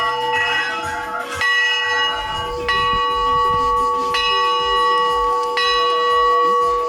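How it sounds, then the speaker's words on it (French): A monastery bell in wild Armenian countryside is struck again and again by visitors, loud and close, each clang ringing out with a long shimmering decay, five strikes spaced about every second and a half. "Et ils se sont mis à sonner la cloche en boucle."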